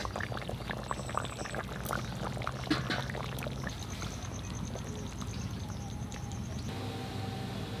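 Raw mustard oil is poured over cooked hilsa fish in a pan, a close, continuous liquid pouring and gentle bubbling sound with faint kitchen clatter and no speech.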